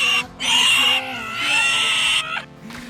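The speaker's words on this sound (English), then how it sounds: "The noise that pig made was the most horrendous sound I've ever heard in my entire life" A pig on New Zealand's Coromandel Peninsula gives loud, shrill squeals, two long piercing cries close by with a short gap between them and a brief third cry at the end.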